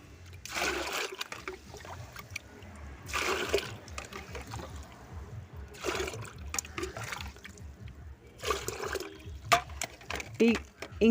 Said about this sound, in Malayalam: ഇത് ചെറുനാരകത്തിൻ്റെ ചൂട്ടിലേക്ക് ഒഴിച്ചു കൊടുക്കാനായിട്ട്.